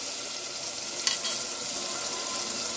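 Ginger and garlic fry in oil with onion and tomato, a soft even sizzle in the pan with a single brief clink partway through.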